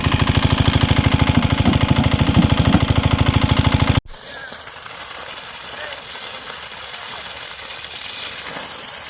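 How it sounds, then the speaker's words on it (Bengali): A 60 kg shallow water pump engine chugs loudly with a fast, even knock for about four seconds. It then cuts abruptly to a quieter outdoor hiss. "আমরা মেশিনটা স্টার্ট করে অবশেষে জল নিচ্ছি"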